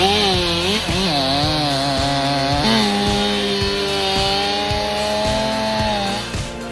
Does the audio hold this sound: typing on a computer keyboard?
no